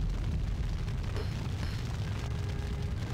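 A grenade in Max Payne erupts as a dense, loud roar of blast noise that stays steady and undiminished for about three seconds, with no speech.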